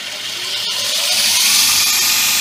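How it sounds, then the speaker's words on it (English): A homemade linisher belt sander runs on a 1/3 horsepower motor, giving a steady, loud whirring hum with a brief dip, alone and close throughout. "Still only running the 1/3 horsepower motor, so it takes a bit."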